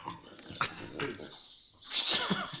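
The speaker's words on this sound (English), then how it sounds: "Absolute maniac of a dog." A dog indoors gives a few short, faint snorts and sniffing huffs, irregular and close, with a brief louder burst partway through.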